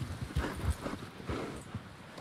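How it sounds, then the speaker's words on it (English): Horse hooves clip-clop steadily across ground in Red Dead Redemption 2 (RedM), several animals moving at a walk in a hilltop settlement, a moderately loud uneven rhythm of thuds with faint background ambience. "There's horses up here."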